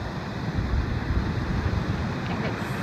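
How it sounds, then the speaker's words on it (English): Ocean surf surging onto a sandbar where a river meets the sea at Kapaa, a steady broadband roar of breaking water close by, mixed with wind buffeting the microphone. "I'm watching as the waves just completely toss these giant pieces of driftwood like they're nothing."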